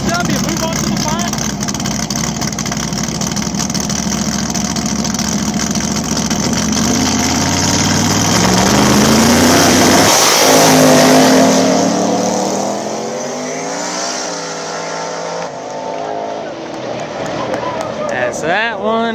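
Turbocharged, nitrous-fed drag radial and street cars at Mooresville, including a mod motor box body turbo combination, idle loudly, then rev and launch in a rising roar under a race commentator's voice.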